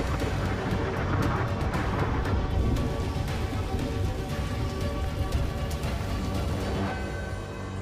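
Heavy monsoon rain pours down steadily, a dense, loud hiss of drops drumming on surfaces with no pauses.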